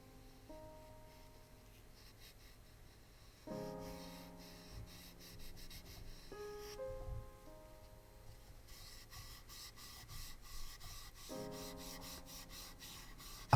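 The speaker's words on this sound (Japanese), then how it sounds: "クリアが完全に乾いたら、今回はバフレックス3000で平滑にしていきます。" Wet-sanding the clear coat on a Tamiya Alfa Romeo Giulia Sprint GTA plastic model body with Buflex 3000 gives a soft, steady rubbing and scraping close by, with sustained tonal sounds running underneath.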